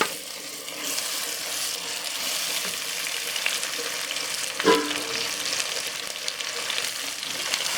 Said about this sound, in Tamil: இப்போ இதை வந்து நல்லா ஆயிலில் வந்து பரட்டி விட்டுக்கலாம்